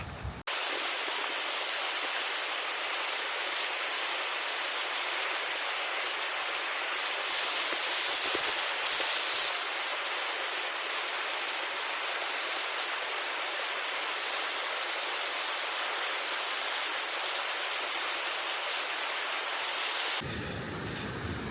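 Steady, loud rushing of a mountain stream on a Yosemite hiking trail, a continuous close wash of flowing water that runs unbroken for about twenty seconds.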